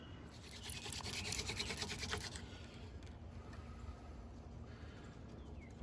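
A hand drill spins against a shortleaf pine fireboard for friction fire, producing a close, dry, rapid scratching and rubbing. It is strongest for the first two seconds, then fades to a faint hiss.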